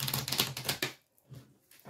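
Cards being shuffled by hand for a tarot-style reading: about a second of quick, crisp riffling and rustling bursts, followed by quieter, sparse handling noises.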